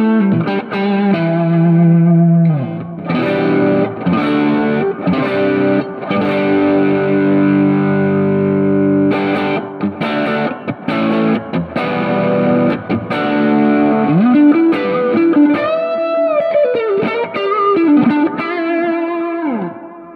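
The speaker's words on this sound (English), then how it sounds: "you can hear that it adds overdrive, a bit of an overdriven tone already" Electric guitar played through the tube screamer–style overdrive pedal model of a Positive Grid Spark 40 amp, giving a mildly overdriven, gritty tone; chords and single-note runs ring out loudly and continuously, alone without talk.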